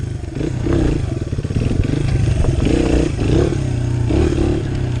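A motorcycle engine, just back from an oil change, revs and rumbles close by for several seconds in steady surging bursts, with some clattering mixed in.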